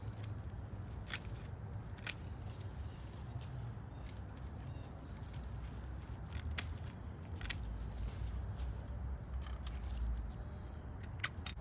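Garden shears snip back an overgrown sage plant outdoors during fall clean-up, a series of sharp, brief clicks scattered through steady low outdoor rumble with faint birdsong.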